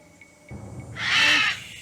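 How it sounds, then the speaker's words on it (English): Crows caw in the video game Ghost Dogs of Moon Lake: a single loud, harsh caw rises out of quiet background ambience and fades after about half a second. "Oh, shush, you stupid birds."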